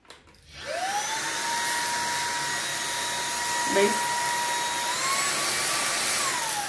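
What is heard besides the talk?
lightweight cordless vacuum cleaner running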